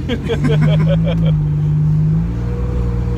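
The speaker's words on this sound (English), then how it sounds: "You got a car making noise and interviewing." A Buick Grand National's engine runs loudly with a steady low drone that climbs and holds, then eases off, with no talk over it.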